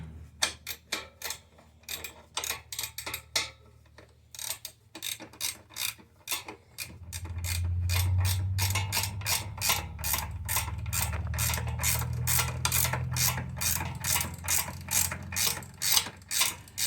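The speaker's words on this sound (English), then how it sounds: "I'm having to hold it, and Mike's getting that wrench in there." A wrench ratchets a bolt while a Bushtec trailer hitch is fitted to a Harley-Davidson, with quick runs of close, crisp clicks that pause briefly and then resume under a low mechanical hum in a tight space.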